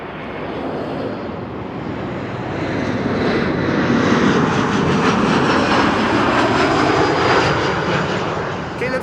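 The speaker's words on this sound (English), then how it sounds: "That was an Embraer 175 to arriving from Hamburg." An Embraer 175 jet arriving at Amsterdam Schiphol from Hamburg passes close by. Its engine roar swells and then holds steady and loud, with a voice speaking over it.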